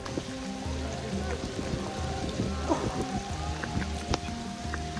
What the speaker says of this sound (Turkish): Şiddetli yağmurun altında bu yaptığım kanoyu hiç unutmayacağım.